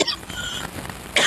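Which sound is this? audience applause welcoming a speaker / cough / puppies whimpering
cough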